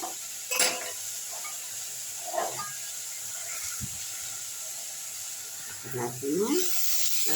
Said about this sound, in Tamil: புடலங்காயை வதக்கணும்.